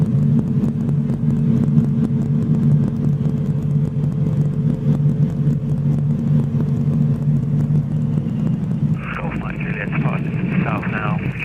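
A student training helicopter's engine idles steadily during startup, a loud continuous low drone and rumble that runs throughout, with a person talking over it.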